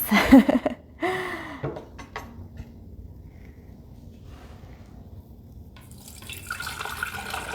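Fresh fruit juice squeezed and strained through a nut milk bag trickles and drips into a container, with a few splashy bursts at the start, then a soft steady dribble close by, fading and returning near the end.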